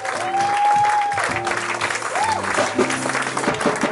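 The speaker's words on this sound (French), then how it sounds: "Donne-lui l'offrande d'acclamation à l'honneur de notre Dieu." Church congregation clapping in honour of God during a worship service, a sustained sheet of applause with a voice talking or calling out over it and a few tonal sounds rising in the mix.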